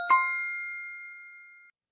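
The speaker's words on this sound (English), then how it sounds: "Or as simple as a correct bell." A single bright bell ding marking a correct answer on a Houston Rockets postgame talk show, one clear strike that rings out with a clean sustained tone for over a second and a half before cutting off, heard alone without talk.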